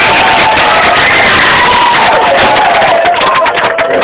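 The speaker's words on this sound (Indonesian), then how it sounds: "Tepuk tangan ya ya." An outdoor audience cheers and claps during a prize ceremony at a village football tournament, a dense, loud wash of crowd noise with whoops, heard from close by.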